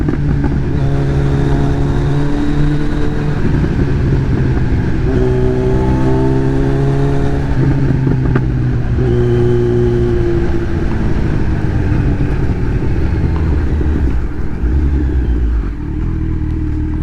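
A remapped Kawasaki Z900 motorcycle rides along a road, its engine note loud and close, rising and shifting through gears in steady harmonic sweeps with a continuous rush of wind throughout.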